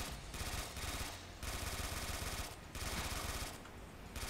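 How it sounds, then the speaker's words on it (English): Enemy gunfire in the Neptunia fan game Dimension Breaker, loud rapid bursts of automatic shots repeating in several volleys with brief gaps, fairly close and with no voices over it. "this guy is shooting at me"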